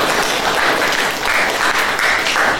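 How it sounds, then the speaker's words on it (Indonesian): Loud, dense applause from participants at a teacher training workshop, a steady roar of close clapping with no pauses. "Bagus sekali, tepuk tangan."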